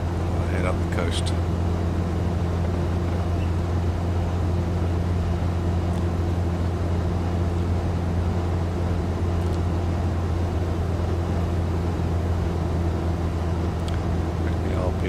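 Light aircraft piston engine in Microsoft Flight Simulator 2020, droning steadily and continuously on a VFR tour over the United Kingdom, a constant low hum with no voices over it.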